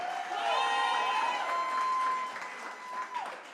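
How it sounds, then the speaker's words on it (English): A gala audience applauds in a steady wash of clapping with some cheering, while a sustained whistle-like tone and other voices rise over the crowd. "let's give them all a round of applause"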